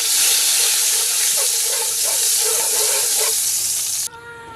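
Margarine and oil sizzle loudly in a frying pan, a constant close hiss with faint stirring, cutting off abruptly near the end to a quieter hum.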